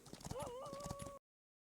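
A horse in the survival game Last Island of Survival gives a short whinny over quick hoof clops, all close. The sound cuts off abruptly into silence after about a second.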